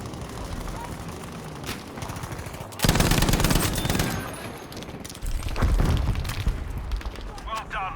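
A Lewis machine gun firing in the Battlefield V video game, loud sustained automatic bursts that start abruptly and return after a short pause, along with other battle noise and faint voices.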